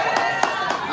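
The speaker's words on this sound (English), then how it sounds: "We clapping, we building energy." Clapping at a live poetry slam in Houston: three sharp claps in an even rhythm within about a second, close and fairly loud over a talking voice.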